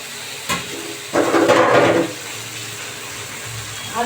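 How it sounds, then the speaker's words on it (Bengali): Mashed roasted eggplant dropped into a pan of frying onion, ginger, garlic and chilli, giving a loud burst of sizzling and hissing for about a second that then eases back to a low simmer. "এবার আমি যে বেগুনটা চটকে রেখেছিলাম সেই বেগুনটাকে এবার দিয়ে দিলাম"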